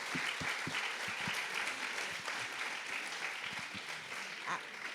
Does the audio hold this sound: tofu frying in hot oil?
no